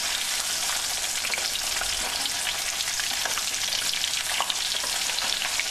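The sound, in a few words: fish frying in oil in a pan, village style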